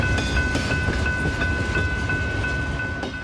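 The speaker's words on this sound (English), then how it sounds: "But even without honking the horns, trains are incredibly noisy" A Canadian Pacific freight train rolls past a yard beside a marsh in Davenport: loud, close rumble with rhythmic clicking of wheels over rail joints and a faint steady tonal whine, no voices.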